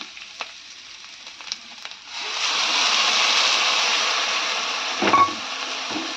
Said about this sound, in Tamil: தக்காளியோட பச்சை வாசனை போகிற அளவுக்கு நல்லா வந்து வதக்கி விட்டுக்கலாம்